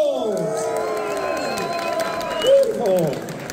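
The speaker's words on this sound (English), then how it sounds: "Please give them a big round of applause." A festival crowd at the Dutch Chili Fest cheers and claps for contestants who finished a round of chili eating, with voices, shouts and whoops mixed into a short burst of applause.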